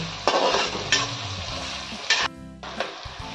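Onion and garlic sauté in hot oil with a bright, hissing sizzle, broken by several sharp stirring scrapes against the pan and one brief quieter gap near the end.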